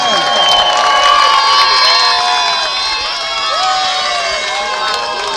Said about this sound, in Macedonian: Аплауз за лавовите на Ратаe.